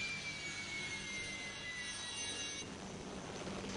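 A civil protection rescue helicopter over Chamonix gives a steady, droning aircraft roar with a whining turbine tone, continuous and moderately loud throughout.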